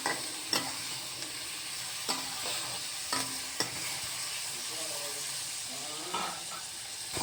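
Onions with turmeric fry in a pan, a steady sizzling hiss running throughout, with a few scraping clicks from a spoon stirring at irregular intervals.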